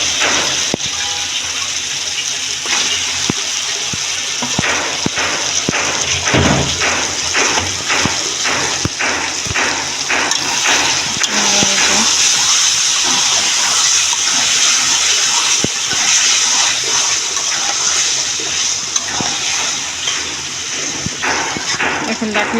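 Tomatoes hit a pan of frying spice paste in oil, giving a loud, steady, hissing sizzle that fills the whole stretch with a watery, rushing texture up close.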